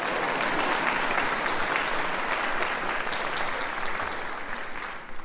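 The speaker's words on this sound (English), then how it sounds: "It's okay, applause." Sustained applause from a ceremony audience honoring fine arts and communication faculty and staff, dense steady clapping filling the room throughout and easing slightly toward the end.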